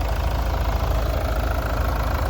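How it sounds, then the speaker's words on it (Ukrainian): A 2011 Mitsubishi Outlander XL with a 2.2-liter diesel engine idles under an open hood, a steady close-up rumble with a faint knocking clatter and constant vibration. "Це як працює двигун"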